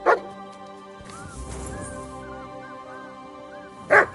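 A dog barks on command indoors, a couple of sharp near barks at the start and end framing soft whimpering yips and whines in between, with no talk over it.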